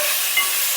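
Homemade ginger garlic paste fries and sizzles in a pan while being stirred, a loud, steady, close hiss with no voices, during egg fried rice cooking.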